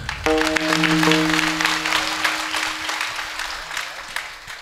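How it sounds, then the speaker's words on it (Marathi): Audience applause at a Marathi devotional gathering welcoming a revered spiritual leader, broad and steady clapping sustained throughout with a held tonal note from instruments or sound system in the opening seconds. "टाळ्या आणखीन जोरात वाजना"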